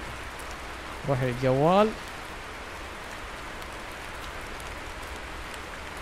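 Heavy rain in the Heavy Cargo truck simulator game: a loud, constant broadband hiss of downpour throughout, with a man's brief speech riding over it.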